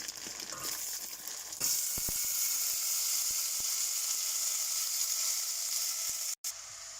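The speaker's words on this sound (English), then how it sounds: "The jeeru has started taking a color, so I'm just going to put in the broad beans now." Broad beans tipped into hot oil with browned cumin, setting off a sudden loud, steady sizzle that keeps hissing after a few light clicks, close by and without talk.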